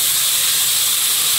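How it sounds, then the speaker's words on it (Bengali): Water hits hot oil where river bamboo-leaf fish and garden taro are frying, giving a loud, continuous, hissing sizzle that stays steady throughout, with no talk. "এবার জল দেবো।"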